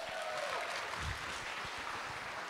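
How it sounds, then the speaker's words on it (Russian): Seminar participants at a Russian negotiation training session applaud, a steady, moderately faint patter of many hands clapping throughout. "Аплодисменты!"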